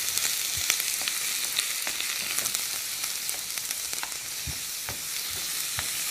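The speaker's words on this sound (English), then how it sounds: "Nice sizzle." Chicken stir fry sizzles steadily in a hot skillet, with a continuous close frying hiss and faint pops throughout.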